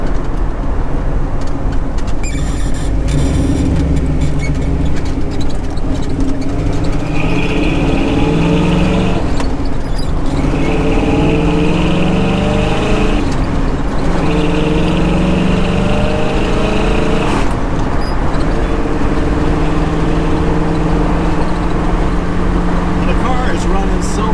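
1965 Pontiac GTO with a recently fixed blown head gasket, engine droning loudly and continuously from inside the car as it drives, its pitch rising and falling with gear changes while someone talks throughout.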